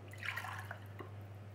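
Chicken marinade water poured from a bowl into a pan in a home kitchen, a soft close trickle and drip lasting about a second over a steady low hum.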